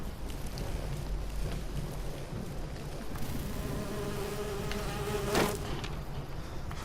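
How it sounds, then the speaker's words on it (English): Bees buzz in a steady, dense drone in the Fallout 76 video game, a constant insect hum that fills the whole stretch with no speech. "More bees down there."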